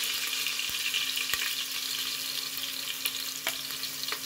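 Potatoes frying in hot oil for egg biryani, a dense, steady sizzle close by with a few light clinks of a utensil and no talking.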